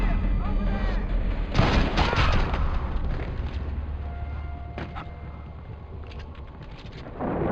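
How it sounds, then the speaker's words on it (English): Suppressed headshot gunshot during a stealth execution in Splinter Cell: Blacklist, heard as a loud broadband crack and burst early on. It is followed by a steady low rumble and scattered fainter impacts. "you can do the execution followed by headshot that I'm going to do here."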